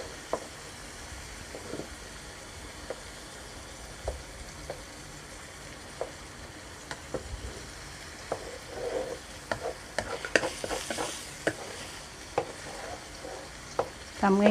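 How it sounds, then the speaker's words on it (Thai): Pork and egg stir-fry in a pan over medium heat while the egg sets: a steady close sizzle with scattered light scrapes and taps of stirring, which grow busier near the end. "หมูผัดไข่ ตอนนี้รอให้ไข่มันเซตตัว"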